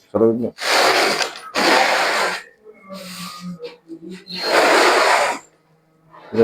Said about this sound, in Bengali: আমরা এখানে ডিল মেশিন দিয়ে একটা ফুটো করে নেব